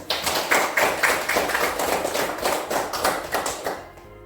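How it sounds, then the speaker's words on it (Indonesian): A classroom group claps together in rhythmic, fairly loud applause lasting several seconds, steady and close, then fading out at the end. "Ya, benar. Tepuk tangan."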